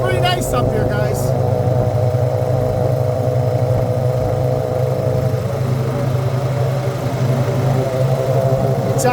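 A Honda Rancher ATV engine drones steadily at riding speed on a paved road, loud and close, with a constant low hum throughout.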